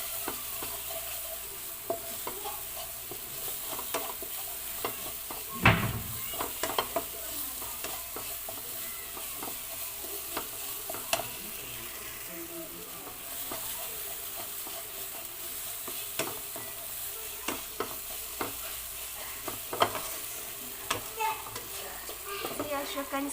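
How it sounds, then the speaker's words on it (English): Aloo masala with half a teaspoon of cumin being stirred in a pan, a steady low sizzle under repeated scraping strokes of a spoon, with one louder clatter near the start and no talking. "Mix all together for another minute."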